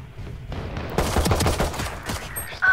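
Rapid burst of gunfire, a cluster of close, sharp cracks in quick succession over a couple of seconds, with a loud final report.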